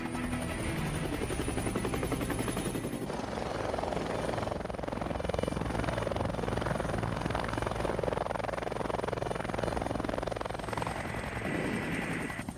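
A mountain rescue helicopter lifts off for a winch mission, its rotor and turbine roar steady and loud throughout, close by, with no clear talk over it.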